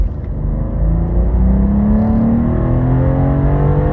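A 2023 BMW M2 engine revs hard as the car accelerates, a loud close rumble with a rising pitch sweep climbing steadily through the gear, no voices.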